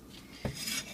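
A knife makes one close, dull chop through Napa cabbage on a board, a single thud over quiet kitchen background.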